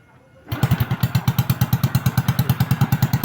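A kickstarted Honda motorcycle with a cut exhaust pipe catches after a brief quiet moment and settles into a loud, steady, rapid putter, thumping evenly close by.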